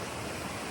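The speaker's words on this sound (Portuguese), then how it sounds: "Nesta cachoeira que eu tanto amo e tanto valorizo" A mountain waterfall gives a steady, dense rush of falling water, loud and close, with no break or talk.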